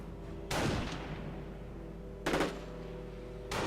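Video game machine gun fire comes in two short, loud bursts separated by a pause, with a third burst just starting at the end, over a steady low background drone.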